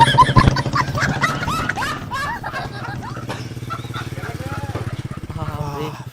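A motorcycle engine runs with a steady low idling drone while voices shout and talk loudly over it throughout, in a Bengali comedy sketch about summer power cuts.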